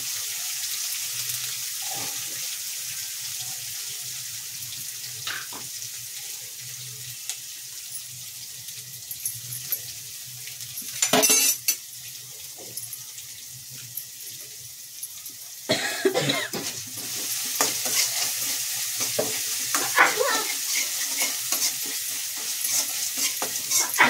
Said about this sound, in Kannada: ಹಸಿಮೆಣಸಿನ್ಕಾಯಿ ಪೇಸ್ಟ್ ಎಲ್ಲ ಚೆನ್ನಾಗಿ ಫ್ರೈ ಆಗಬೇಕು.